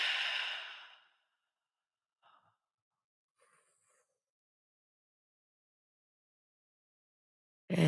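A slow, deep exhale as a breathy sigh opens the clip and fades within a second, followed by near silence with faint soft sounds and a brief breath at the very end.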